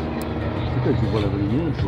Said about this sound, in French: Un avion belge et aujourd'hui une version ULM, donc ultra léger motorisé.